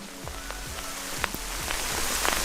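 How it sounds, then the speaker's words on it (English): Hail coming down outdoors, a dense steady patter of small impacts building slightly in intensity, with scattered sharper hits against surfaces and no voices. "seems like hail coming down"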